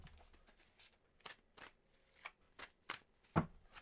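Tarot cards are shuffled close up, a series of quiet, crisp riffling bursts in an uneven rhythm of about ten separate shuffles, ending with a sharper snap.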